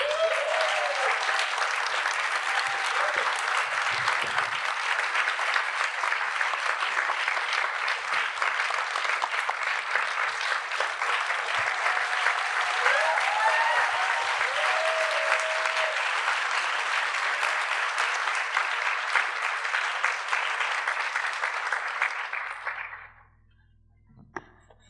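Warm, sustained applause from a seated audience at a film Q&A screening, steady dense clapping for over twenty seconds before cutting off abruptly into near silence.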